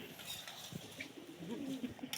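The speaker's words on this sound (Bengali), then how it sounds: "একটা পায়রা আমার দাদুর সাইকেলে চেপে আছে" A pigeon perched on a bicycle outdoors coos softly, low and faint under steady background noise.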